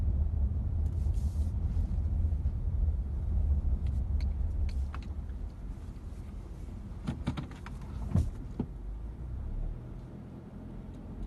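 2017 Honda Accord Sport making a quick U-turn, heard from inside the cabin as a steady low engine and road rumble with a few faint clicks and ticks partway through.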